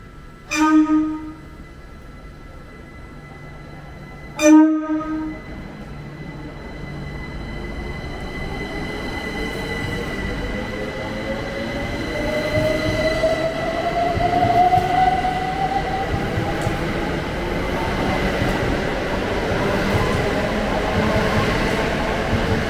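An Elizabeth line passenger train runs through London on shared tracks. Two sharp horn blasts sound near the start, then the steady rumble of wheels on rails builds as a rising whine of the motors grows louder with the train's approach.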